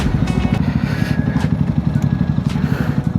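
Honda NX 500 motorcycle with E-Clutch, its engine thrumming loud and steady under way, a deep pulsing drone with faint wind and road noise around it.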